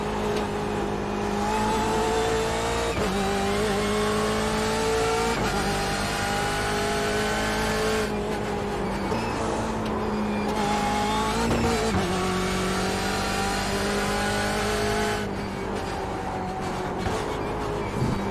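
BMW M8 GTE race car in iRacing, its engine roaring loud and steady as it accelerates through gear changes, with brief dips and rising revs throughout.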